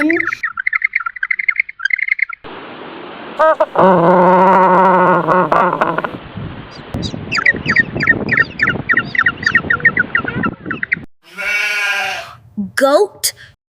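A penguin calls in a loud, harsh braying series of squawks and honks close up, rising and falling in bursts with several shrill cries near the end.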